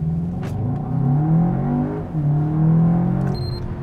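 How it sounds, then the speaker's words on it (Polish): A Volkswagen Arteon Shooting Brake's engine revs up under acceleration, a steady loud rumble rising and falling in pitch twice as the car pulls away, heard from inside without talk. "musiał nabrać tej mocy, ten silnik musiał wejść na wyższe obroty"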